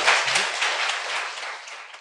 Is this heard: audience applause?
yes